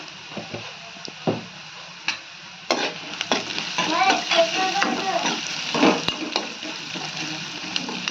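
Onions frying in a pan with salt and turmeric, a steady sizzle broken by stirring scrapes and clatters that grow busier midway, close and fairly loud.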